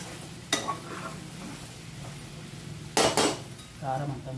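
Tamarind curry stirred in a pot, a utensil scraping and clinking against the metal in two bursts, with a soft sizzle underneath and a brief voice near the end.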